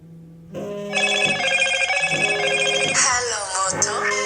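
A Moto Watch rings for an incoming phone call with a melodic electronic ringtone that starts abruptly and carries on loud and close, its notes shifting as it repeats.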